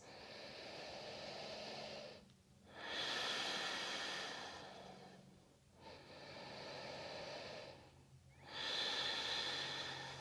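Slow, deep breaths are drawn while holding a yoga high plank: three long, airy inhale-exhale cycles, close and quiet, with short pauses between them and no talking.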